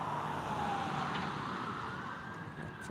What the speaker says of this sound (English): you can still hear the first responder vehicles going off like crazy in the background